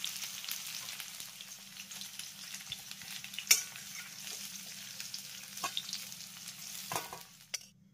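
Fried jackfruit lifted from the frying oil, a faint steady bubbling sizzle with occasional sharp clinks and scrapes of a utensil against the pan, no voices.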